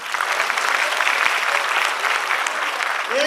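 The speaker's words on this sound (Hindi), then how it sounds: "ताली बजाओ यार।" Steady audience applause at a college annual function after a motivational speech, a dense, fairly loud wash of clapping from a large crowd that holds evenly for its full length, with a faint voice or two underneath.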